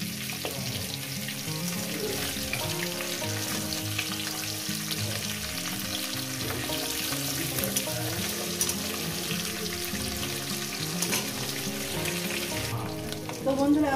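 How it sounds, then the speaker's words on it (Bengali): Katla fish belly pieces fry in hot oil, a steady dense sizzle and crackle that runs throughout at close range, loud and continuous, with a few light clinks near the end. "মাছগুলো আমার সুন্দর করে ভেজে নিয়েছি"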